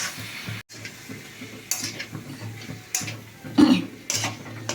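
Chicken being stirred in a kadai, with soft scraping and clinking of a spoon against the metal pan and a light sizzle, irregular and close, with no voices.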